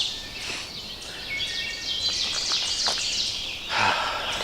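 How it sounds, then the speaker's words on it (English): Birds sing and chirp around a campsite on a sunny morning, a steady scatter of bright calls over soft outdoor background, fuller near the end. "listen to the birds."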